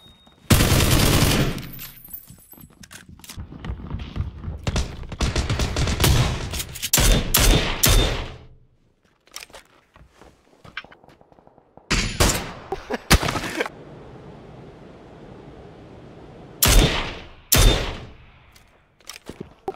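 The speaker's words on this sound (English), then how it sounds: "Dude, someone's shooting at me." Gunfire in the video game PUBG: loud bursts of rapid automatic fire come in several separate volleys with short quiet gaps between them, and faint voices occasionally underneath.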